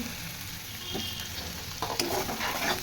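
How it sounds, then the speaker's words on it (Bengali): Turmeric, chilli powder, cumin and salt stir-fried in a pan for a chicken and potato curry: a steady close sizzle with a few scraping stirs growing busier toward the end, no voices. "ভালো করে নাড়িয়ে নিচ্ছি। আমাদের মশলা হলুদ, লঙ্কা গুঁড়ি, জিরে, নুন দিয়ে দিচ্ছি, মশলাগুলো কষে নিচ্ছি।"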